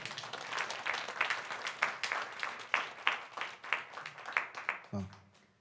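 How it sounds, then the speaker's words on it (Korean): A church congregation claps together in a steady, fairly fast rhythm of many hands, sounding roomy and somewhat distant, ending with a brief low thump. "박수 한번 하겠습니다"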